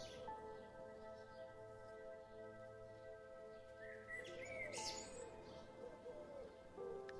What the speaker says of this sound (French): le doux chant des oiseaux vous berçant dans un état de tranquillité